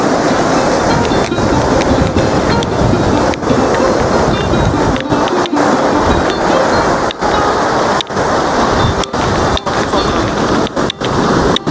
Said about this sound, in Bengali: সমুদ্রের ঢেউয়ের মারাত্মক গর্জন আর পুরো পাকে ভিজিয়ে দিচ্ছে